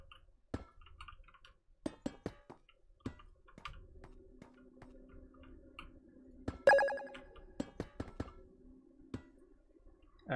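A new-follower notification alert from a livestream plays as a short run of bright chiming tones, set against sparse ticking and clicking noises in a quiet background.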